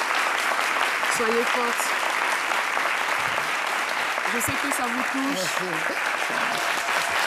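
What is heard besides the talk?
audience applause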